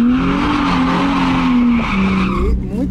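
A car spins in a tight donut on pavement, its tires squealing loudly and continuously for nearly three seconds over the revving engine, then cutting off abruptly.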